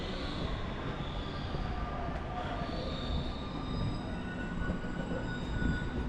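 A Paris metro train running underground, a steady loud rumble of wheels on rails with faint squealing tones layered above, continuous with no voices.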